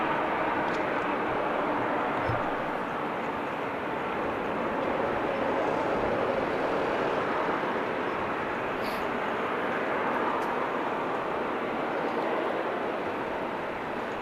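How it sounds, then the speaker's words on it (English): An Emirates Airbus A380 taxis toward runway 24 at Amsterdam Schiphol Airport, a steady, broad engine rumble and whine at moderate distance that stays constant throughout. "So the A380 is taxiing, so let's follow the A380 in its movement towards runway 24."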